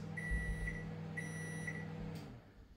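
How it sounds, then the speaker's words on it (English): A microwave oven heating a takeaway chicken dopiaza finishes with two pairs of high electronic beeps over its steady running hum, which then winds down and stops; close, with no one speaking. "This is going to beep."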